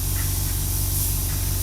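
A paint spray gun sprays evenly and constantly at slightly high air pressure, giving a steady, loud hiss that continues without a break and with no talking over it.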